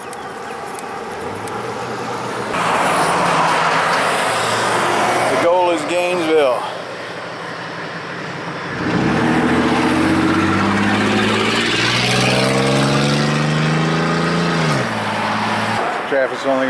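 Road traffic rumbling past a cyclist on a morning highway, loud and steady with engines swelling and fading as vehicles go by, while a person talks over it.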